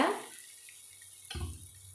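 Water is drained from rice soaked ten minutes for mutton biryani, a brief splash at the start, a quiet pause, then a low steady pouring rush.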